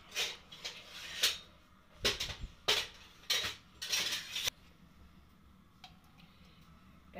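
Knob of a kitchen gas stove being turned on, a series of rapid clicking ticks from the igniter in uneven bursts, close and fairly sharp, followed by a quieter background hush.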